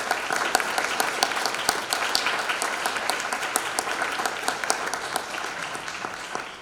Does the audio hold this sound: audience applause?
yes